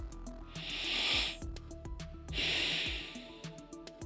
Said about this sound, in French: Allez, on inspire et on expire.